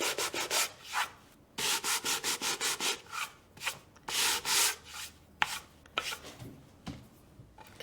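Rhythmic back-and-forth hand sanding of a painted wooden centerpiece box, a quick run of rasping strokes followed by slower, uneven scrubs, close and clear with no talking.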